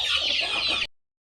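Chickens clucking busily in a coop, healthy and plump birds raised on fermented feed; a dense, close chorus of overlapping clucks that runs steadily for under a second, then cuts off.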